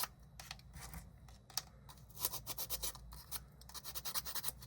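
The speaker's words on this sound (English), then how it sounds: "again, sand them if need be" Small wooden dollhouse bench pieces are sanded by hand, producing close, steady rasping strokes that quicken into a rhythmic back-and-forth scrubbing in the second half, with no talk.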